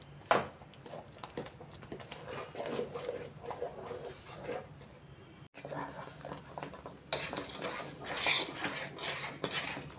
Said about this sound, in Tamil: ஒரு விஸ்கு வச்சு கட்டி இல்லாமல் நல்லா கலந்து விட்டுகிட்டே இருக்கணும்.